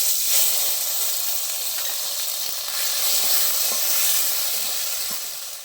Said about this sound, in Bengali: এবার তেল গরম হয়ে গেছে, আমি ফোড়ন দিয়ে দেবো। সাজিরে গোটা গরম মশলা, তেজপাতা দুটো, সামান্য হিং, আদা লঙ্কা পেস্ট